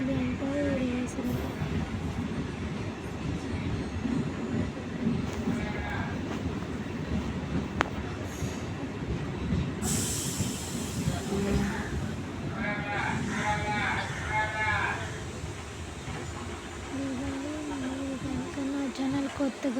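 A nearly empty passenger train runs near Veeravasaram station, its steady rumble and rattle of carriages rolling on throughout, with voices talking over the noise.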